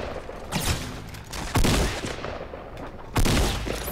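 Bursts of gunfire from a shooter video game crack sharply and repeatedly, with a few louder volleys hitting close and heavy among the quicker shots. Everything is fairly loud, and no one speaks.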